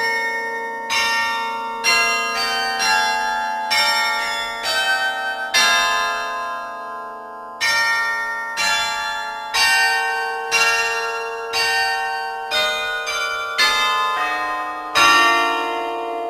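Westminster College carillon, the Catherine Stewart Armington Carillon, rings a melody of bright, resonant bell strikes in a steady sequence, each note sustaining and overlapping the next, clear and close with no voices.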